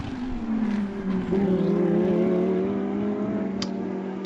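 Lamborghini Super Trofeo race cars at Road America, a sustained engine whine holding a steady pitch that shifts as the cars pass, with a faint click late on, heard at a distance.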